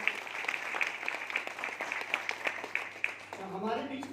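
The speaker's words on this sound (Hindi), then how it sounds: "तालियां बजाएं परमपिता परमात्मा और टीसी जी के लिए" Audience clapping at an RCM business meeting, a steady patter of many hands sustained throughout, with a voice rising over the applause near the end.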